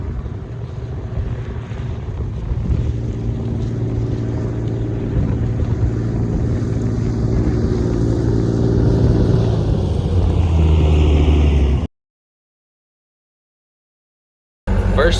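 A skid steer loader's engine drones loudly nearby, a steady low rumble with wind buffeting the microphone, rising slightly before cutting off abruptly into silence, then briefly returning.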